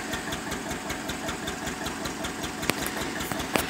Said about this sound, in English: There's the muffler there. Doing what it does best.